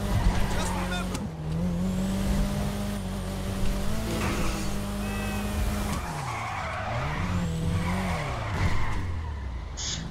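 Tires screech and skid as a car drifts through city streets in GTA 5, long wavering squeals rising and falling over a steady engine drone, with a short break before a second sweeping slide.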